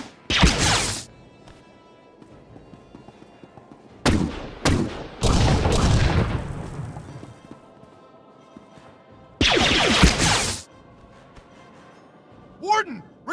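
Blaster gunfire in Star Wars: The Old Republic, several loud broadband bursts about a second long, with a longer volley near ten seconds, set against quiet ambient tones, a short swooping effect at the end.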